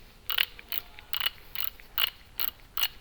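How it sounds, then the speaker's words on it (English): A torque wrench ratcheting on brake caliper bolts during a rotor and brake pad install, a run of sharp, evenly spaced clicks heard close up and alone in a quiet space. "Then we're going to torque those down to 19 foot-pounds."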